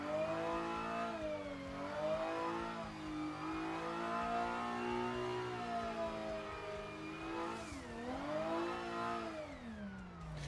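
A four-door Nissan R32 in the racing game Assetto Corsa, its engine revving steadily with rising and falling pitch, dipping sharply near the end before climbing again, a continuous mid-level drone.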